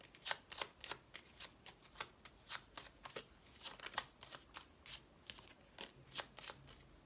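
A deck of tarot cards being shuffled by hand, close and fairly quiet, with a steady run of quick riffling flicks repeating through the whole stretch and no talk.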